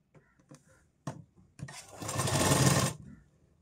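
A sewing machine stitches a blouse with piping in one steady burst of about a second, preceded by a few soft taps and handling sounds, fairly close and alone.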